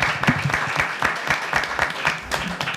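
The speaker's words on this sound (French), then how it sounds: "On peut l'applaudir" Studio audience applauding a guest on a TV show, a smaller group of people clapping with distinct sharp hand claps in an uneven rhythm, close and fairly loud.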